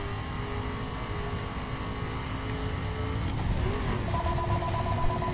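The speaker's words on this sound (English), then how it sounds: "That phone's not gonna stop ringing." A house phone in a room keeps ringing in repeated electronic trills, entering clearly near the end over a steady car-engine drone from The Crew's dirt-spec Ford Mustang GT.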